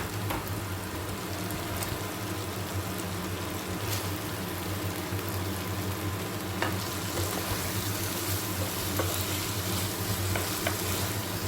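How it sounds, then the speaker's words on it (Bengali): Paneer cubes are stirred into a spice masala in a hot pan, a steady close sizzle with soft scraping and occasional light taps of a spoon against the pan throughout. "এর মধ্যে পনিরগুলো দিয়ে মশলাটার সাথে ভালো করে মিশিয়ে নেব।"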